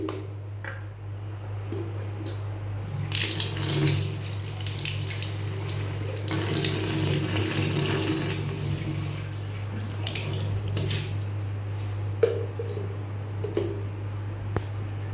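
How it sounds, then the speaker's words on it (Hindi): Water runs from a tap into a container during a home product test, a continuous splashing flow with a low steady hum beneath and occasional handling clatter. "इसके साथ इसमें पानी डाल के देखते हैं कि ये कितना इसके अंदर से वो निकलता है।"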